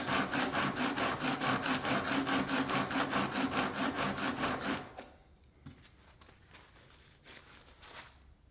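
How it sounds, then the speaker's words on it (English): A chisel honed on a diamond sharpening stone with rapid, even back-and-forth strokes, close and rasping for about five seconds, then quieter scattered scrapes and taps as strokes stop. "I put the chisel back in again nice and carefully and just do a few more strokes"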